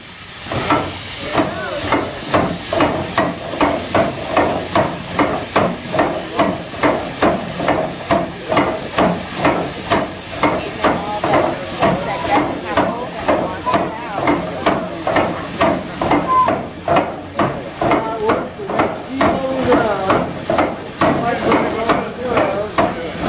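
Heavy mechanical mill hammers pound in a fast, steady rhythm, loud and close, with a hissing, clattering industrial background throughout.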